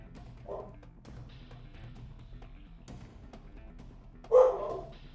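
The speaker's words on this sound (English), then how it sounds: "he's just running around the house barking" A dog barks inside a house, two short, distant barks several seconds apart, the second louder, over a quiet indoor hum.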